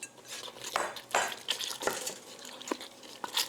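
Spoon scraping and clinking through a thick Buffalo white mac and cheese sauce with smoked Gouda in a pot, giving irregular close knocks and swishes with no talk.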